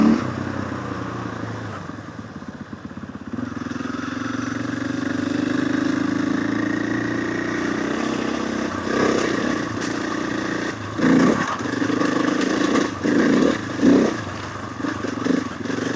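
Trail motorcycle with a 500 engine on a countryside trail ride, the engine droning steadily and rising in short throttle blips toward the end, close by.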